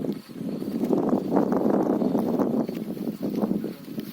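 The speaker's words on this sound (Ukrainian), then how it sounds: "такий вітер холодний на вечір" Steady gusting cold evening wind roars against the microphone in a continuous low rumble at a rural goat pasture, with no voices.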